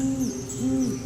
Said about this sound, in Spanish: gritos del búho que graznaban refugiados bajo el nimbo de piedra de una imagen